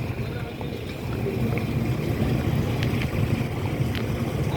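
A big high-bowed fishing trawler at a fishery ghat by the sea near Chattogram gives off a low, steady engine rumble mixed with water and wind noise.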